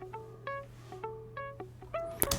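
Plucked guitar notes with no Guitar Rig processing, played as part of a merengueton beat: short harmonic plucks in an uneven rhythm over a steady low hum, ending in a brighter burst.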